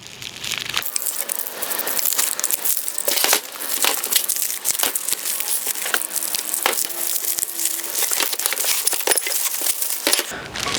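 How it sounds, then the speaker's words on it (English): Crinkling and tearing of plastic packaging as new sprintcar parts such as radius rods are cut open, a steady close-up rustle with scattered crunches and small clinks throughout, no voices. "I'm going to just get this all cut open."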